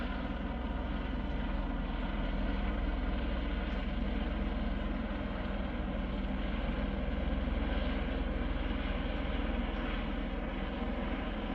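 A helicopter circles overhead, its steady low engine and rotor drone continuous and unbroken throughout, with no talk.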